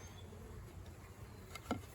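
Honey bees hum steadily in an opened hive, a soft continuous drone close by with one brief louder buzz as a bee passes near.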